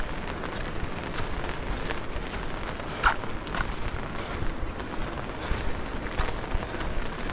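Steady rain patters on a mountain path near Jogini waterfall in Manali, a faint, even hiss with scattered louder drops and a few soft step-like knocks, no voices.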